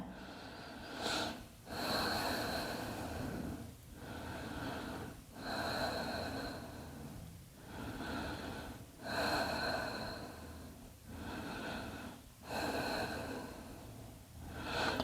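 Slow, deep breathing while holding a yoga forward fold, with long audible inhales and exhales in a steady rhythm, close and soft, with no voices.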